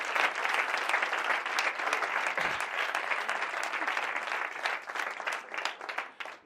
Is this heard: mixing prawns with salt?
no